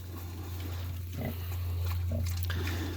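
Soft grunts and snuffles of Vietnamese pot-bellied piglets come in short bursts over a steady low hum, close by and fairly quiet.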